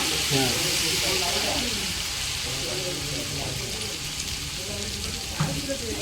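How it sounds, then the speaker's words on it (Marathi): A Kolhapuri chicken masala tempering of ginger-garlic paste fries in a pan, making a steady close sizzle with a few soft clinks and stirring sounds. "एकदम तडका बसलेला आहे थोडं फ्राय करून घेऊया ना"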